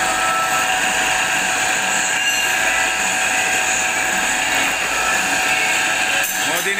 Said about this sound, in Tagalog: Cutter sa karton.